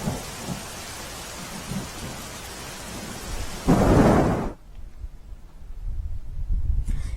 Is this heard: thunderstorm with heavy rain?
yes